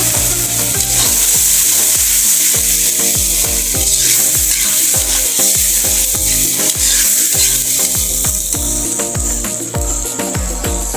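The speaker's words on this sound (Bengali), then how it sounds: "এবার আমরা একটু পানি দিচ্ছি, পানিতে দিয়ে আর একটু কষে নেব।" Spice masala for a fish curry fries loudly in a pan as water is added, a dense continuous sizzle with repeated scraping stirs throughout, no talking.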